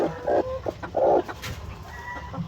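A brooding barred white hen clucks in a few short, low bursts close by, with quieter farmyard noise filling the gaps.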